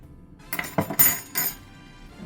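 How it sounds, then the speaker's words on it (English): A spoon stirs tortellini soup ingredients, seasoned with pepper and Italian herbs, in a pot, making a brief cluster of metallic clinks and knocks against the sides that then falls quiet. "Stir this all together just like this"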